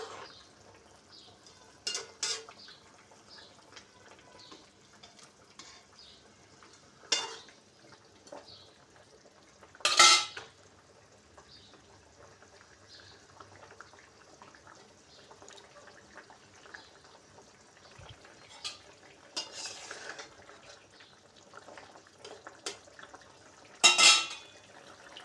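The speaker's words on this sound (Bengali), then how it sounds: "মাছগুলো দিয়ে একটু ভালোভাবে নেড়ে নেব" Pabda fish stirred in a pan with a little water, sparse scraping and clinks of a spatula against the pan in scattered bursts over a faint simmer, close and fairly quiet.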